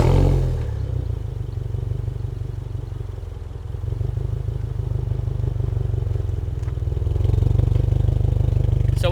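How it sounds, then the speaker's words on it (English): A modified 2023 Subaru WRX exhaust rumbles low and steady at close range after a warm startup, with a slight rise in loudness near the end and no talking. "let's get a quick sound test of this exhaust"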